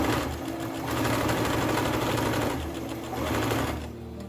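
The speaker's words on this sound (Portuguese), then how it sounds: "vou unir aqui a orelhinha com a primeira parte reta e vou costurar" Sewing machine stitching fabric pieces together, close and loud rapid needle chatter in two bursts with a brief slowdown between them.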